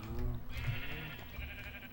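Sheep bleating in Minecraft, a couple of short game bleats near the start over a steady low background hum, with no talking.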